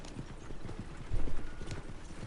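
Horse hooves clip-clop in Red Dead Redemption, a steady trotting rhythm of close, clear hoofbeats with a brief louder flurry midway, no voices.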